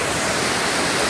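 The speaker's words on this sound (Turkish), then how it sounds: "Evet arkadaşlar, şelaleyi görüyorsunuz." A waterfall in the Aladağ mountains gives a steady, dense rush of falling water, loud and close, with no voices over it for about a second.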